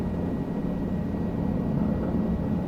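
A helicopter in Microsoft Flight Simulator gives a steady, dense rotor and turbine drone that holds unchanged throughout with no voice over it.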